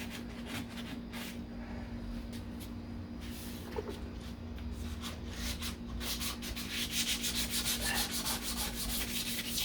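The deck lid of a 1969 Corvette C3 is sanded by hand with steady back-and-forth scraping strokes, close and continuous over a low background hum, with no one talking.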